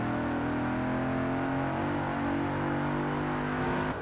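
A Mercedes AMG car engine in the racing game Forza Horizon 4 drones steadily at high revs under acceleration, a sustained loud, even engine tone that cuts off at the end.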